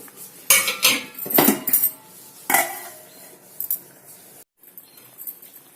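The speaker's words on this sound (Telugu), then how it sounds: "ఇంకా 2 మినిట్స్ మనం ఇలాగనే మూత పెడతామండి" A metal lid set onto a cooking pot of meal maker dum biryani, with several sharp clanks and clinks of metal on metal spread through the clip, then a brief silence and quieter rattles.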